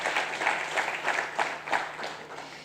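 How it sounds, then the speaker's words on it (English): Audience applause at a funding summit for entrepreneurs after a workshop session, a moderately loud wash of hand clapping with rhythmic swells and several sharp peaks, steady throughout with no talking over it. "So please give them another round of applause"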